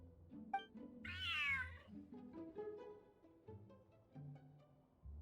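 A cat in the Genshin Impact game lets out a single clear, drawn-out meow near the start, loud and close, over soft background music.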